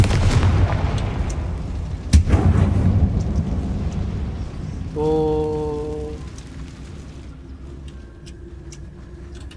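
In Hogwarts Legacy, a Confringo fire spell goes off as a sharp blast with a rumbling explosive roar, followed by a bright ringing magical tone and scattered crackling effects inside a mine.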